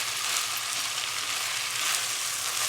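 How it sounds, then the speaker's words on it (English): Rice with spices, ginger, garlic and onion being stirred in a hot pan, heard as a steady, even sizzle and frying hiss that holds throughout at moderate loudness, with no talking. "give it a stir and mix all the ingredients into the rice"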